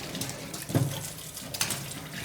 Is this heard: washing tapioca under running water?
yes